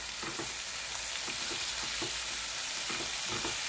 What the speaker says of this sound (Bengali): এবার কিন্তু একটু নাড়াচাড়া করে নেব, ওই ধরুন এক মিনিট মতো।